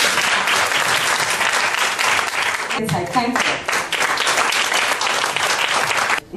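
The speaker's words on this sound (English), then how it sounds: "Give her a clap." A seminar audience bursts into loud, sustained clapping that fills the room, with a brief dip midway where a voice speaks over it before the applause swells again.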